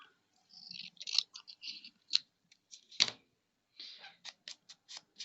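Scissors snipping through paper close up to tidy a sloppy edge, a quick run of crisp cuts followed by a pause, one louder snip, then another series of short clipped snips.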